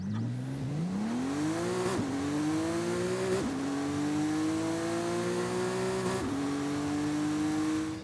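Porsche 911 Rallye engine in Forza Horizon 5 revs steadily upward through several gears, each shift marked by a brief break before the drone climbs again, loud and close throughout.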